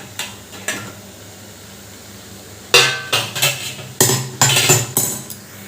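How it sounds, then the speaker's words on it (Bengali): A metal pot lid lifted off a cooking cabbage dish, with a few soft clanks at first, then a quick burst of sharp metallic clatters and scrapes up close. "এরপর দশ মিনিট পর আমি ঢাকাটা খুলে দেখছি হয়েছে কিনা"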